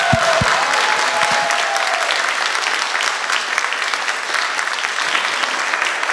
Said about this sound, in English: can we do just one more round of applause for all of the performers tonight?